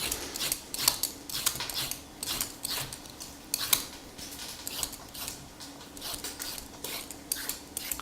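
Sharp vegetable peeler scraping carrots and celery for homemade chicken stock, a run of quick, rhythmic rasping strokes close by, alone without talk.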